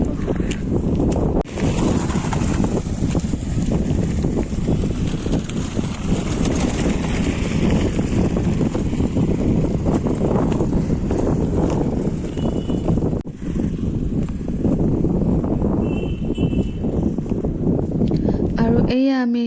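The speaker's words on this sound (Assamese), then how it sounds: "আৰু গৈ আছোঁ নদীৰ কিনাৰত, পুৰা বতাহ দি আছে" Strong wind blows along a river bank, a loud, steady buffeting roar that runs almost unbroken for about twenty seconds before ending abruptly.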